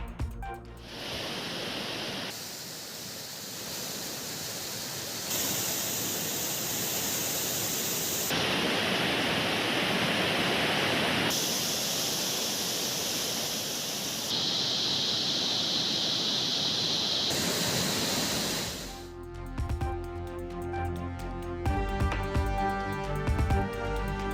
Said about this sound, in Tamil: தொடர் கனமழையால் கும்பக்கரை அருவியில் வெள்ளப்பெருக்கு